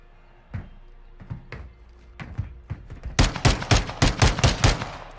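Video game gunfire cracks out in scattered single shots that speed up into a rapid, loud burst of automatic fire, with no talking.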